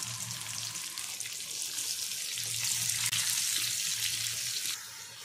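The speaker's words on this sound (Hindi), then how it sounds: "तो ऑयल जो है वो अच्छे से गर्म हो चुका है, तो इसमें अभी हम प्याज जो है वो डाल देंगे।" Chopped onions frying in hot oil for a chicken sukka masala, a steady broad hiss and crackle sustained throughout, loud and close, with a faint low hum beneath and no talking.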